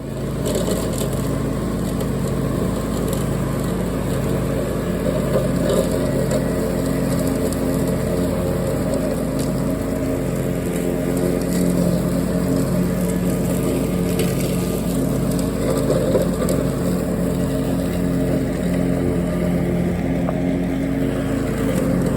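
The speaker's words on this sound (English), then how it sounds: "we're going to do a bit of mowing whilst we're waiting" A farm tractor mowing grass gives a steady, continuous engine drone with a broadband rumble that stays at a constant loudness throughout, with no talking over it.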